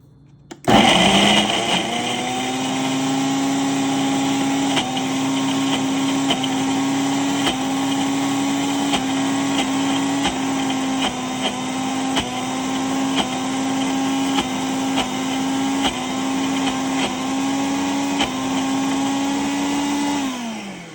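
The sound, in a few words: blender blending vegan mushroom egg filling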